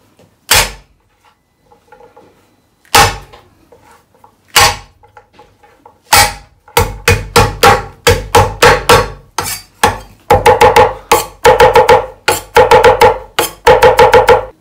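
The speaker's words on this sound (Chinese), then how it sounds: "蒜呢需要轻轻的拍碎" Garlic cloves smashed on a kitchen cutting board: a few sharp, isolated thwacks at first, then a fast run of repeated hard whacks, loud and close with no voices.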